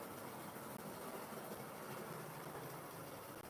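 Model GWR Hall Class steam locomotive running on a layout, a steady close rumbling wash of motor and wheel noise with faint rhythmic rail clicks, continuous and unbroken, with no voices.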